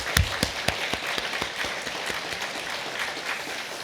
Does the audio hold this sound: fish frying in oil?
no